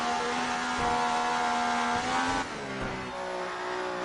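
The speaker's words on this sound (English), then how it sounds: "listen to that engine" A high-revving Formula 1 car engine in the F1 2019 video game screams steadily through the Monaco tunnel, its pitch climbing and dropping through gear shifts, loud and continuous with no voices.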